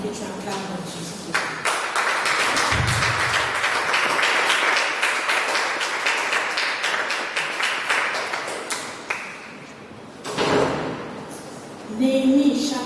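A church congregation bursts into applause and cheering, a sustained wash of clapping lasting several seconds, trailing into scattered claps before a brief second swell, with voices mixed in.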